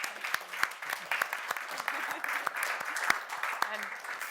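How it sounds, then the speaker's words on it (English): An audience at a panel discussion on economic growth applauds the speakers, a light, scattered clapping from a modest group with distinct sharp claps, fairly faint and steady throughout. "Just another round of applause for all of our speakers."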